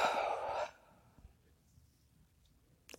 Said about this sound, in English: Just a deep breath.